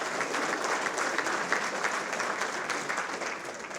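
An award ceremony crowd gives a steady round of applause, a dense continuous wash of clapping at moderate distance that stays even throughout.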